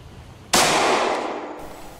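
A single loaded gun fires in the video game Project Zomboid, one sudden loud report with a bright, sustained burst of noise that decays slowly over about a second and a half, heard alone without talk.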